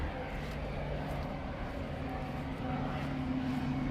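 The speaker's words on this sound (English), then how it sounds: "Oh, another airplane coming in." An airplane coming in to land on a hot day in Japan gives a steady, continuous engine drone at moderate distance, with no talking.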